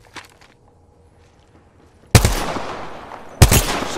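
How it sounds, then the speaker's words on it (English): Two loud, sharp bursts of gunfire from an Apex Legends match ring out after a quiet stretch, each decaying over a second or so, with faint footsteps beforehand. "Shooting. I'm spotted. Taking fire."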